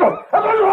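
Close and loud, a dog in an animated Arabic-dubbed Belle and Sebastian episode gives two short yelping, whining barks separated by a brief pause, with a voice speaking briefly.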